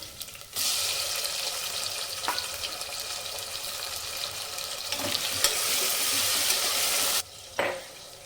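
Green chillies and chopped tomato fry in a pan with ginger-garlic paste, a steady broadband sizzle running continuously, with a couple of brief stirring knocks and a short pause near the end.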